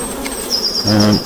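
Honeybees buzz loudly and close by during inspection of a National 14x12 hive, a continuous humming drone with a brief deeper buzz passing near the end.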